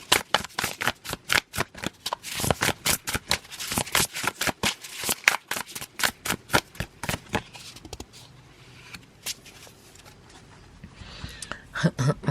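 Tarot cards being shuffled in a rapid run of crisp, riffling flutters for several seconds, then slowing into softer, scattered slides and taps toward the end, close and fairly loud.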